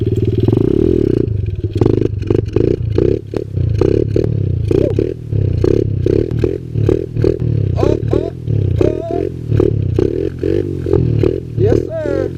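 A Kawasaki KLX 110 pit bike holding a wheelie through a sandy turn, its small engine buzzing loud and close with rapid throttle blips and revving surges, plus some clatter and wind buffeting.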